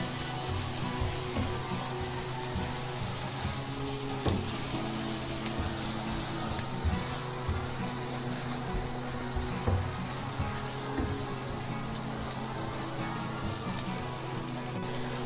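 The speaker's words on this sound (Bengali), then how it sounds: "গাজর আর মটরশুঁটি দিয়ে দিব, দিয়ে সব কিছু ভেজে নিব।" Carrots and peas sizzle steadily in a pan for noodles, a dense continuous frying hiss with occasional soft stirring scrapes, close and even throughout.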